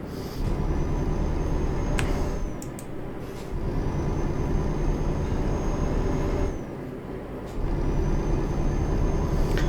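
A heavy truck drives through a narrow spot in Euro Truck Simulator 2, its engine droning steadily and up close, with short hissing air-brake releases breaking in a few times.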